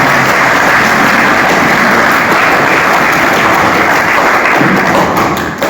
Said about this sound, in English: I request all of you please give them a big round of applause